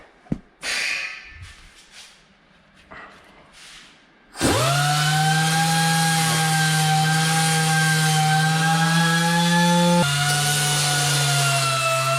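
A power sander with an 80-grit abrasive runs on metal for a supercharger bracket on a Hyundai Genesis Coupe 3.8. A few short scrapes come first, then a loud, close, steady high whine that drops slightly in pitch near the end.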